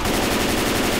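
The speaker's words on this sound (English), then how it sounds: "I'm pulling a deagle out, dude." Rapid Desert Eagle pistol fire in the video game Left 4 Dead 2, a dense, loud burst of gunshots filling the whole brief moment.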